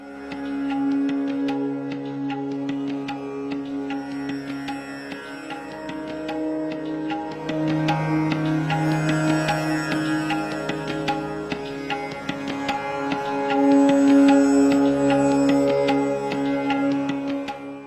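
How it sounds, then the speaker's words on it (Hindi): Continuous devotional Akhand Manas recitation at the Ram Sagar Hanuman temple in Rewa, a sustained chanted melody with steady harmonium-like drones and accompaniment, fairly loud and unbroken throughout. "इस मंदिर में पिछले 4 वर्ष से अखंड मानस का पाठ भी हो रहा है"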